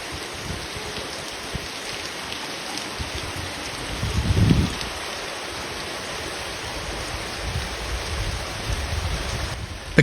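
Heavy rain pours down steadily during flooding in Tarragona, Spain, a dense, even hiss of falling water with a brief louder gush midway and no voices.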